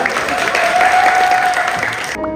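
A studio audience breaks into brisk, steady applause for a Korean song performance, a short dense burst of clapping that cuts off abruptly at the end.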